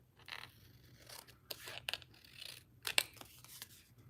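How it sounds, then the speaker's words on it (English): Scissors snipping through paper while trimming a straight edge for a handmade card, a series of sharp close cuts and scrapes in an irregular rhythm, fairly quiet in a still room with no talking. "And then simply just trim it straight cut right down."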